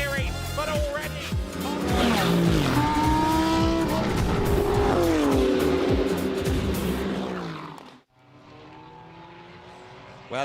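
GT race cars competing at Circuito Estoril in a winter series race, engines roaring loudly with rising and falling revs as they pass close by, a brief drop near the end before another car sweeps in.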